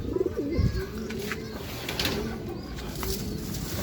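Racing pigeon cooing near the loft on arrival from a 135 km race, a few low throaty coos early on, then soft background ambience and faint movement with a voice murmuring underneath.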